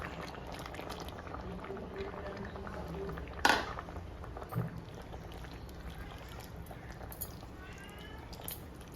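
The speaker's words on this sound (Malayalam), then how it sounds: "ഇതേ ഇവിടെ നന്നായിട്ട് തിളച്ച് തുടങ്ങിയിട്ടുണ്ട്" A pot of beef curry with coconut milk bubbles steadily at a gentle boil, soft and close, with a sharp clink partway through and a few small knocks.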